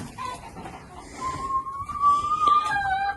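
Hen sitting in a nest on a small homestead farm, giving soft clucks and then a rising, drawn-out squawking call that grows louder toward the end, close by and with no talking.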